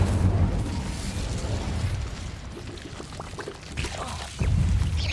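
The Incendio fire spell is cast in Hogwarts Legacy, a loud whooshing burst of flame over a rumbling background, continuous and fairly close, swelling again near the end.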